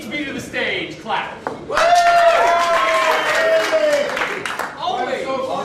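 A small theater audience breaks into a burst of clapping, with whoops and cheering voices mixed in. Talk from the stage comes before and after the applause.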